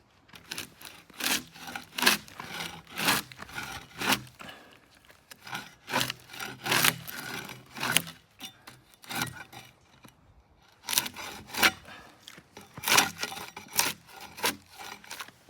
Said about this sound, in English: when we start peeling these logs